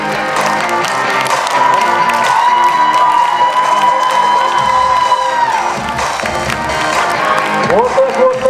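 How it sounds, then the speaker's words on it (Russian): Audience clapping at a festival cosplay parade stage show, sustained and loud beneath steady tonal music, with a host's voice and crowd cheering mixed in. "Хлопаем, хлопаем, ребята"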